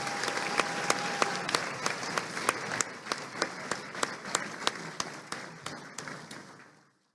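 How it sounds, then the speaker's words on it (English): Applause from a hall of fame ceremony audience honoring an inductee, a steady crowd clapping overlaid by regular sharp claps in rhythm, fading out at the end. "let's honor the late Freddie Ballou with a huge round of applause."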